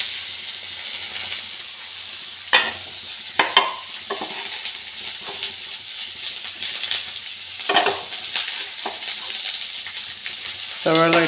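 Sliced onions sizzle and fry in a pan for a Kerala-style seema chakka (breadfruit) koottukari, with steady frying hiss and occasional sharp scrapes of a spoon stirring.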